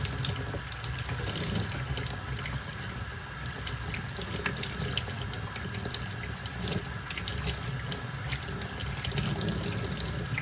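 Warm tap water runs steadily through a two-stroke engine air filter, rinsing it from the inside out. The flow is a continuous, even splashing hiss from start to finish, with no talking.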